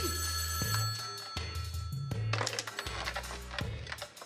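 A telephone bell rings repeatedly in bursts over a low, steady hum, with some faint clatter in the background.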